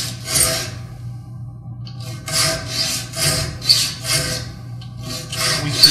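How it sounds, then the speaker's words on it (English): A hand file works along the teeth of a wooden backsaw, giving repeated rasping strokes in a steady rhythm, close and fairly loud, with a brief pause near the start. "again rolling it 15 degrees towards the nose, we'll file the intermediate teeth"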